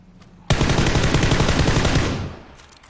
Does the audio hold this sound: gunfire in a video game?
yes